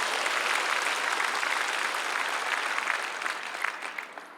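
Applause from a large congregation at a church worship service in Yongsan, loud and continuous clapping across the whole span that thins slightly toward the end, with no talk over it.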